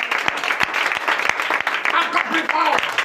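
A congregation applauds during a night prayer service in Bénin, with dense, steady clapping throughout and a voice speaking over it.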